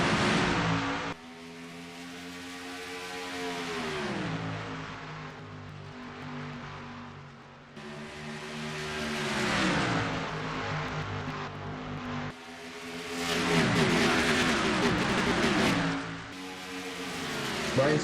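Race cars pull away at the start of a race at Charlotte Motor Speedway, a loud, sustained engine roar whose pitch climbs and falls in repeated waves as the field accelerates and shifts, with a commentator's voice partly audible over it.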